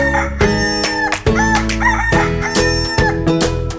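A rooster crows loudly and up close, its long drawn-out calls repeating several times in succession with no voices present.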